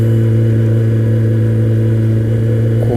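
Kawasaki ZX-12R motorcycle engine droning at a steady mid-pitched hum while riding, loud and constant with no speech.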